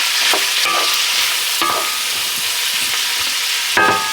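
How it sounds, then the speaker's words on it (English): Carrots, bacon and onions sizzle loudly in a pot as a steady hiss, with a few scraping stirs breaking through now and then. "Now we're going to throw in the mirepoix. There we go. And we're going to cook this down."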